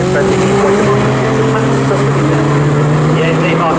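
Race car at Snetterton during a Future Classics endurance race, engine droning steadily and loud as it heads into the pit lane, with commentary running over it.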